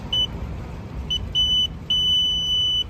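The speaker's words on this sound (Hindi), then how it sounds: "चिप को आप जैसे यहाँ से पार करेंगे एक बीप का आवाज आएगा, सुन लीजिएगा।" A running race timing chip crossing the detection mat on a track sets off sharp electronic beeps: a short one, then two more, then a longer sustained tone, each loud and clear over a quiet background hum.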